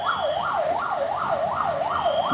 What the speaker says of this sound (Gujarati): ખાડાને કારણે એમ્બ્યુલન્સને કેટલી તકલીફ પડે તે તમે પણ જોજો